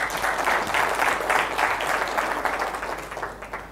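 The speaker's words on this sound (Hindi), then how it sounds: "मैं उनके लिए एक जोरदार तालियां चाहता हूँ।" An audience breaks into sustained, vigorous applause, dense overlapping claps holding fairly loud and steady before easing slightly toward the end.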